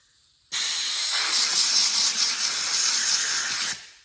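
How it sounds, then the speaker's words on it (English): Air hose blasting compressed air through carbon arrow shafts, a loud steady hiss that starts abruptly, holds for about three seconds close to the mic, then cuts off. "I'm just gonna blow some air down the tubes of the shafts to get rid of all that loose carbon in there"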